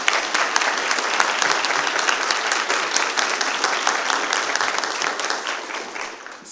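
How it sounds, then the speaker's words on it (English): Loud, dense applause from the audience at a school district board of trustees meeting, continuous clapping filling the room for several seconds before tapering slightly at the end. "Let's give her a round of applause."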